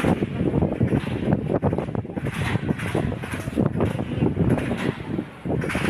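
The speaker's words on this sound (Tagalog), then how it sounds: "Sa sobrang hangin." Strong wind outdoors at an archery practice area roars and buffets the microphone continuously, with low rumbling gusts throughout and no voices.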